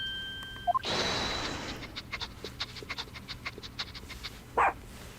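Toby, a dog in The Great Ace Attorney 2: Resolve, sniffs and pants in quick short puffs after a brief musical chime, with a sharp bark-like yip near the end.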